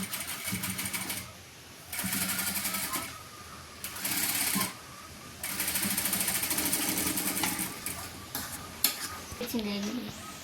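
A sewing machine stitching a churidar top, running in several bursts of rapid rattling stitches separated by short pauses, close and fairly loud, with little talk.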